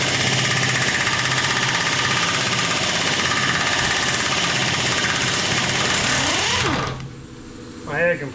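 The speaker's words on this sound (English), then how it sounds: "My air compressor and gun is not the best." An air compressor and air gun run loud and close, a steady rattling mechanical drone that cuts off near the end, leaving a lower hum and a brief voice.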